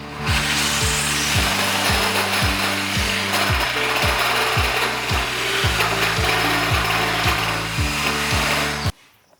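A hole saw cuts through wood with a loud, continuous grinding whine, its pitch stepping down and up in repeated strokes as it bites, then stopping abruptly at the end.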